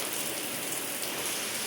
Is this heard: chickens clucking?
no